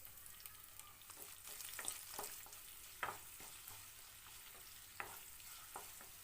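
Chopped onion sizzling in hot oil with cumin seeds, a soft, steady frying hiss with occasional pops and stirring scrapes, fairly quiet and without voices.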